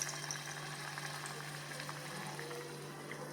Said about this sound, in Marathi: आता सोनेरी रंगावरती हे सर्व बटाटे वडे छानपैकी आपण तळून